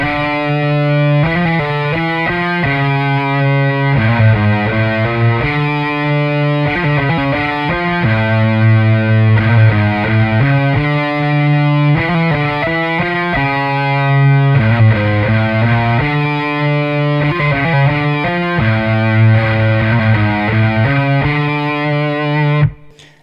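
A heavily distorted PRS S2 Singlecut electric guitar through a Victory V30 Countess plays a repeating chugging riff with chord changes, loud and continuous, cutting off abruptly at the end.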